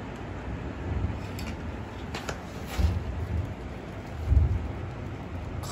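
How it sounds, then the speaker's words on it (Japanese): Heavy rain pours steadily on a stormy night in Osaka while deep thunder rumbles roll in twice, loud and booming over the constant hiss; no one speaks. "雷がちょっとやばいです。"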